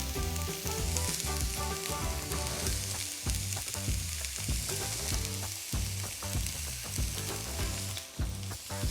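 Chorizo sizzles in a frying pan with onions while being stirred, a continuous crackling fry broken up by repeated scraping and clattering of a utensil against the pan, close and alone without talk.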